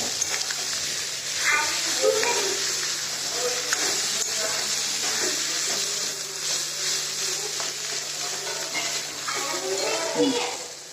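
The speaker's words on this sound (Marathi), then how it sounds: "आणि त्याच्यामध्ये पाणी टाकते" Water going into a pan of onion and potato curry on low heat, a hissing sizzle and bubbling with faint clinks, heard under someone talking.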